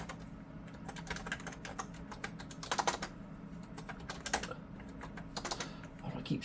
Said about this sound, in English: Why do I keep typing K?